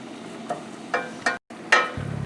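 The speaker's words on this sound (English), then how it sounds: "Once you can smell the garlic cooking, add your flour. Remember to stir so it doesn't burn." Garlic and flour stirred in a hot pan, with a few short scraping strokes and a soft sizzle near the end.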